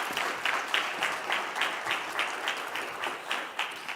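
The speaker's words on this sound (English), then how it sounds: "A round of applause for him, please." Audience applause after a keynote address at a conference session, a steady wash of many hands clapping at moderate level with slight pulsing swells, no voices on top.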